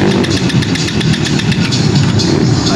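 A motorcycle engine being cranked with the key switched on and off, a steady loud mechanical churning with repeated pulses that never catches into a clean idle, close by.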